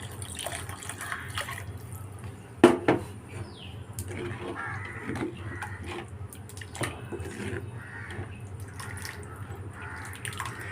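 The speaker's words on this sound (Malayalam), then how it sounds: "ഈ കുറച്ച് ഞാൻ വെള്ളം ഒഴിച്ചു കൊടുക്കുന്നുണ്ട് കേട്ടോ" Water poured into a pot of mackerel curry, already salted, in a home kitchen: a soft, faint pouring and splashing with a sharp clatter early on and a crow cawing in the background.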